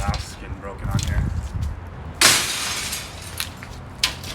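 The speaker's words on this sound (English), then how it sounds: "I thought I'd get some noise with the glass getting broken on here" Old window glass is smashed while a window frame is scrapped, with a sharp, loud shattering crash midway followed by a shorter tinkling break near the end over rustling handling noise.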